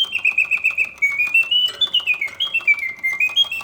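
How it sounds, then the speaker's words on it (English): A vintage Reuge mechanical double singing bird cage trills and warbles a bright, continuous birdsong, with rapid chirps and sliding whistles over faint clicking from the mechanism, close and clear without speech. "The birds sing with full voice, yet the mechanism runs smoothly and quietly."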